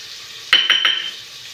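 A spoon scrapes and clinks through capsicum, coriander, red chilli powder, turmeric and salt frying in a pan, giving a few quick stirring strokes over a soft sizzle, close and fairly loud.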